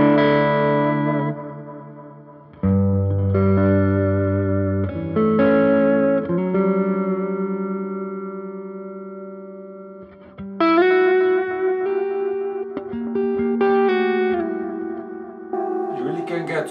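Guitar notes swell in gradually with no pick attack, each chord fading up and trailing into a wash of repeats from a NUX analog delay pedal, ambient and sustained.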